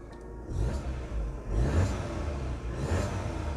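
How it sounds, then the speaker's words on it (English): A car engine runs steadily with low rumble, swelling in a couple of revving surges before settling back. "It's idling perfectly."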